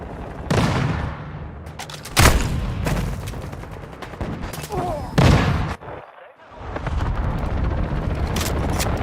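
Call of Duty battle noise with several heavy booming blasts, including a grenade explosion, among scattered gunfire. Loud impacts land roughly every couple of seconds over a constant combat din, and a voice talks intermittently.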